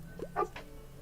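A puppy in the video game Tiny Bookshop gives a quick pair of soft yips, the second a little louder. The brief, close barks rise over a quiet background, with no talking.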